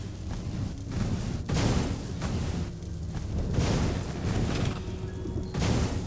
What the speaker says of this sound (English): Energy cannons.